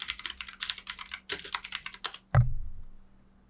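Rapid clicking keystrokes on a computer keyboard in quick irregular bursts, close and clear, ending with one heavier thump that fades into a low resonance.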